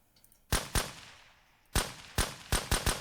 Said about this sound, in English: Let's try to take him out with this AK I have.